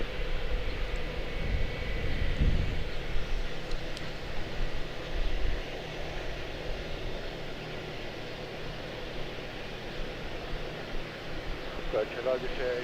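An Etihad Airbus A350-1000 airliner comes in to land, a low, fairly faint rumble of engine and air noise that swells early and then settles into a steady wash.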